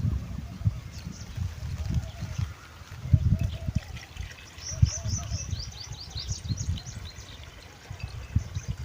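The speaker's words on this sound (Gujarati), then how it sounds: "દવા સોટવા તો આ રેડી કરી દીધું હોય તો જો કેટલું બધું પાણી રેડી" Water is poured in a steady trickle to mix pesticide spray on a village farm, with birds chirping faintly and intermittently in the background throughout.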